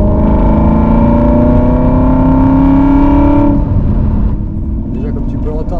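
An Aston Martin V8 Vantage with a stainless steel exhaust drones loudly and close on an open road, its pitch climbing steadily before the revs drop and the engine note falls away.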